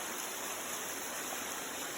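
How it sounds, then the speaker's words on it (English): Steady, full rush of falling water, continuous and even throughout, like a waterfall heard from close by with no other sounds, along the Buffalo River Trail. "There's a waterfall."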